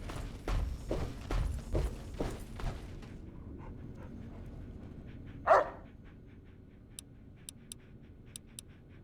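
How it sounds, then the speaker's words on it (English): Dog in Fallout 3/New Vegas barking in a quick burst of several woofs, followed by a single dull thump and a few faint, evenly spaced ticks over quiet background. "Hi there, puppy."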